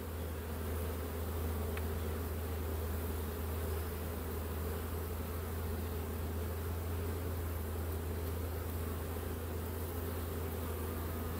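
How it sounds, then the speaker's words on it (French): Honeybees returning to the hive entrance loaded with pollen, a steady close buzzing drone of many wings that holds without a break and with no voices. "d'abeilles qui arrivent avec du pollen, donc ça c'est très bon signe"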